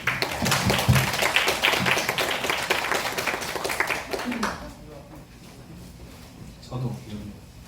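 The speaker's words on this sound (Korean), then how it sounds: "박수로 저희 선생님들 모시겠습니다." Parents at a 2025 school admissions information session applaud the teachers, a burst of clapping lasting about four seconds that mixes with talk, then fades to quieter voices.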